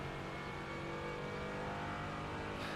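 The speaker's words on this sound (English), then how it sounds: "I feel like this car is so loud." Loud racing-game car engine holding a steady high drone with dense harmonics throughout, a continuous roar with slight pitch shifts and no voices over it.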